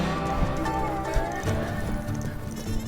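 Horse hooves thudding and clopping on dirt at a ranch rodeo, irregular close footfalls amid a busy, noisy background.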